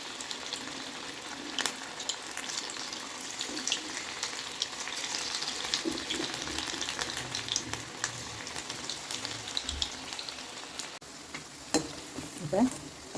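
Small pieces of mushroom dough deep-fry in hot oil for a roadside-style snack, giving a continuous bubbling sizzle that stays close and moderately loud, with occasional clinks and stirring sounds.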